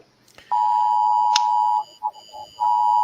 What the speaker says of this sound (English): Who's got the weather alert? Beep, beep, beep.